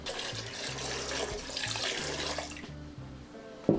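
Rum pours from a measuring cup into a batch of Jamaican sorrel drink, a short splashing liquid stream that runs for a few seconds up close before tapering off, with no voices.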